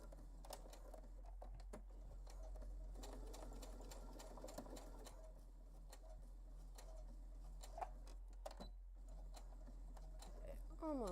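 An industrial sewing machine stitches the end of a backpack, a fast, even mechanical whir with rhythmic clicking that runs steadily under faint background hum.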